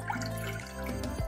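Water pours into a cooking pot, a soft, close trickling and splashing whose pitch shifts as the vessel fills, steady throughout with no one speaking.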